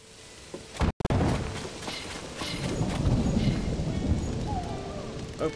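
Thunderstorm weather in Zelda: Tears of the Kingdom in Faron Jungle, steady rain hiss with a low rolling thunder rumble building in the middle, and a sharp thump near the start.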